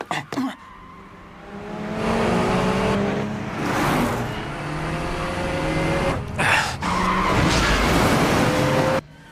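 Animated FD race car in a downhill race, drifting with long loud tire squeal and a rising, shifting engine wail, broken by short sharp bursts and a cut near the end.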